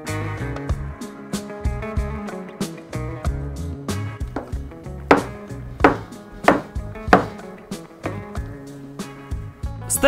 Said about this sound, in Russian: Нарезаем его на кусочки.